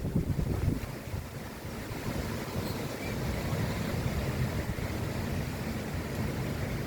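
Strong wind blowing outdoors buffets the microphone in a loud steady rumbling roar with gusty swells, no voices heard.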